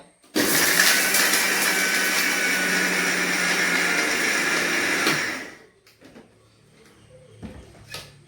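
A mixer grinder runs loud and steady for about five seconds, grinding chammanthi ingredients, then winds down and stops, followed by a few light clicks and knocks.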